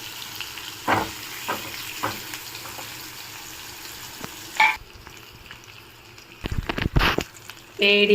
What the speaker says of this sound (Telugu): ఇప్పుడు ఇందులోకి మ్యారినేట్ చేసుకున్న లెగ్ పీసెస్ వేసుకుందాము. చూడండి, ఆయిల్ బాగా అప్లై చేయాలి.